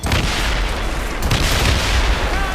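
Ship cannons firing during a naval battle in Assassin's Creed Rogue make a loud, continuous roar of booming blasts that blend into one heavy rumble, with no speech over it.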